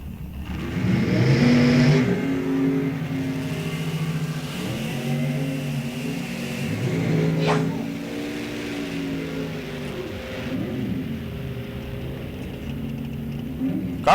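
A 2003 Corvette Roadster drag racing down the strip at an NHRA National Open, a loud engine roaring as it accelerates, its pitch climbing through gear changes before it fades off into the distance.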